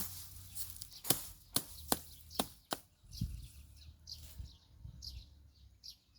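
Galangal root being chopped by hand with a knife, about six sharp separate strikes in the first few seconds, then quieter handling noises with birds chirping outdoors in a garden.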